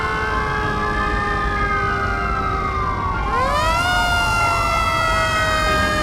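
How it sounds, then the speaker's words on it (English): Fire engine siren wailing loud and close, several overlapping rising and falling tones that sweep down then climb again, steady over a constant engine rumble. "Then the fire engine came and responded."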